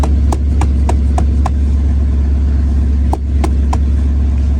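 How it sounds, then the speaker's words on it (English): A Chevy engine idles steadily after a cold start, a loud continuous low rumble running throughout, with a few sharp clicks or ticks standing out near the beginning and again toward the end. "Listen to that Chevy."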